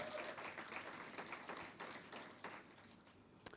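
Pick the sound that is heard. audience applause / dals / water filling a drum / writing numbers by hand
audience applause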